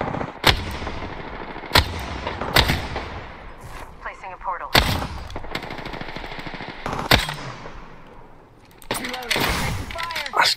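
Gunfire in Apex Legends arrives as sharp, loud single shots and short bursts spaced across the span, with gameplay noise between and a player talking over it.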